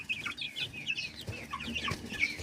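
A Japanese-breed rooster clucks and makes short, squawky calls in quick, irregular bursts, heard fairly close with faint background noise and no talking.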